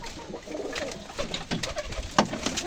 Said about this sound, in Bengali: সব একই রকম পায়রা এখানে দেখুন কত পায়রা